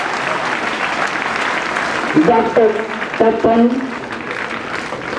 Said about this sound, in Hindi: बच्चे और जोरदार तालियों द्वारा स्वागत अतिथियों का